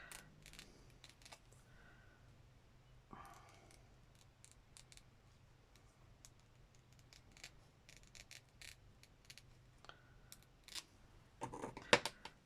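Quiet snipping and clicking of scissors cutting plastic, a few sharp cuts scattered through an otherwise still room, with a louder crisp snip near the end.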